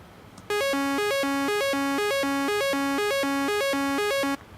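Crude synth patch built in OpenMPT from two oscillators with a bare pitch change, stepping up and down between a few notes in a fast, steady repeating pattern. The bright, buzzy tone is sustained and alone for about four seconds.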